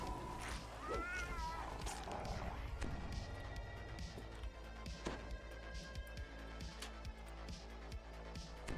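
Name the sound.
cat creatures meowing in the game Dungeons and Dragons Online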